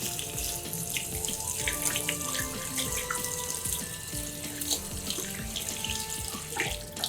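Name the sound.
rinsing hands under running warm tap water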